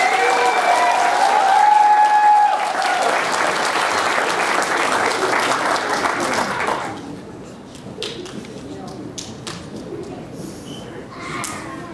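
Audience applauding contestants at a local children's pageant, a loud sustained round of clapping that ends abruptly partway through, leaving scattered claps and thuds.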